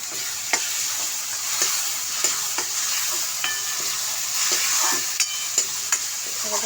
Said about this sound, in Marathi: आता मी ह्यात टॅमॅटो टाकणार आहे.